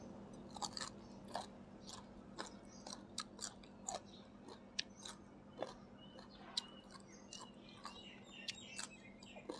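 Crunchy chewing of pickled unripe mango, repeated sharp bites and crisp crunches in a steady irregular rhythm, close and fairly loud against a low hum, with faint bird chirps in the background.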